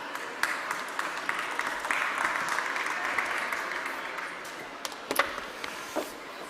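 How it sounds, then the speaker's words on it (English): An audience at a chess festival stage event claps for a speaker, a moderate wash of applause with scattered sharper claps, fairly distant and sustained for several seconds. "Ladies and gentlemen, I would like a huge applause for Noah Manella."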